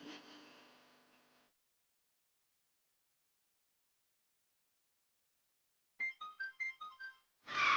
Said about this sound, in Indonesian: ini telepon, ada telepon